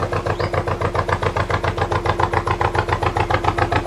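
A boat's engine chugs along a canal where narrowboats are moored, a steady, evenly pulsing low thump that is close and fairly loud, with no voices over it.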